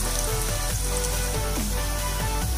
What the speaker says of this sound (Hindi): ओनियन को हमें ब्राउन करना है, तब तक हम इसे फ्राई करेंगे।